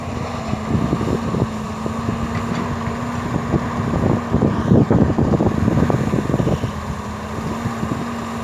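A Volvo EC210B LC excavator's six-cylinder, 147-horsepower Volvo diesel engine runs steadily with a low, rough rumble and rapid knocking pulses, close by, with some wind noise over the microphone.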